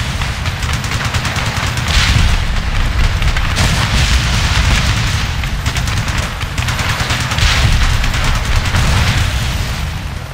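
Heavy enemy gunfire and explosions in the combat game Ace Combat: a dense, loud barrage of rapid shots and booming blasts that rolls on continuously with swelling bursts.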